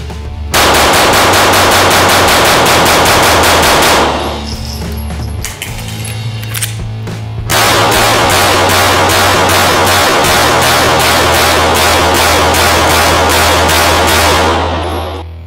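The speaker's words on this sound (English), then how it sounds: "That was a full mag dump, 147 grain." A pistol dumps a full magazine of 147 grain rounds at a shooting range: very loud, rapid, evenly spaced shots in two long strings separated by a brief pause, close and alone.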